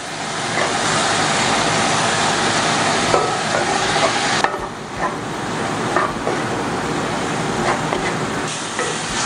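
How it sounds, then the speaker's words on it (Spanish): Onions sautéing in a pan for hot dogs, a steady loud sizzle with occasional stirring scrapes and clinks throughout. "Y vamos salteando nuestras cebollas que agarren el sabor hasta que queden translúcidas"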